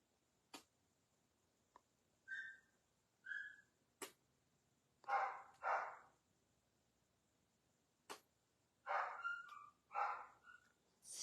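A few dogs, four kept together in a household, give scattered barks in pairs at intervals, mid-distance, between sharp ticking clicks, with no talk.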